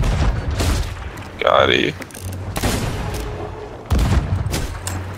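Video game gunshots boom in loud, sharp bursts with mechanical clanks between them, while a player speaks briefly over the action.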